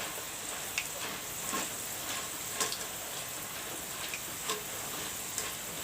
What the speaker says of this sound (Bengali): এটাকেও সময় নিয়ে ভেজে নিতে হবে।